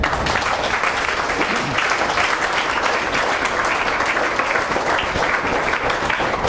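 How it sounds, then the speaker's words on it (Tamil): An audience at a lecture breaks into steady, dense applause that holds at an even loudness throughout, with no voices over it. "இந்தியாவுக்கு ஒரு கைத்தட்டல் கொடுத்துருங்க"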